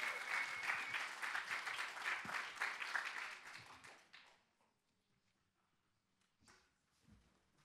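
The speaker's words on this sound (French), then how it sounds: "Merci de bien vouloir l'applaudir" Audience applause greets a contestant at the final of a French business-school eloquence contest, dense clapping for about four seconds, then fading to near silence with a few stray sounds.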